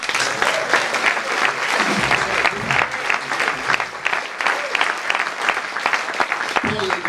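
A crowd at a live jazz ensemble concert applauds steadily, dense clapping sustained throughout at a fairly loud, even level with no pauses.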